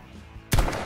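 A single sharp gunshot cracks out loud and close, after a low, quiet background, with a short rumbling tail after the report.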